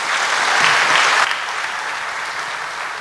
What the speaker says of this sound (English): deserves a big round of applause from everyone